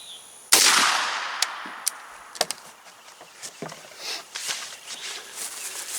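A single sharp 7.62x39 subsonic 190-grain solid copper hollow point shot strikes a Level 4 armor plate, one loud crack followed by a decaying outdoor echo and a few faint clinks and rustles afterward.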